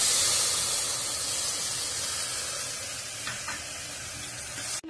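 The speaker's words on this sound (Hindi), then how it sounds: "अब मैं इस पर टमाटर ऐड कर रही हूँ" Tomatoes dropped into fried spice masala for chole, a loud hissing sizzle that starts strong and slowly settles, with a couple of faint stirring scrapes near the end.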